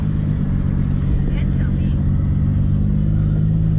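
A Toyota Supra MKIV running at around 30+ psi of boost idles with a loud, steady, low engine rumble, heard from inside the car.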